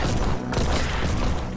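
Teammates firing guns in the looter shooter Solomon Snow, a dense, steady clatter of shots with a busy mechanical rattle running through the whole moment.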